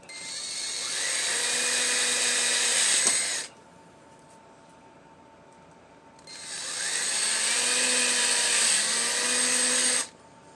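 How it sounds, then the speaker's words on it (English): Two bursts of a high-pitched electric drill grinding into e-bike metal, each about three seconds long, separated by a short quiet pause; close and loud. "Drilling right into the metal there."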